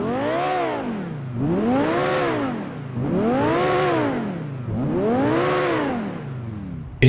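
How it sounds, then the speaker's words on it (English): Obey Nine R sports car, an Audi R8 V10 style machine in GTA 5, revving in neutral: four loud, smooth rev cycles rising and falling in steady rhythm, close up and with no voices. "Let's hear how it sounds just revving."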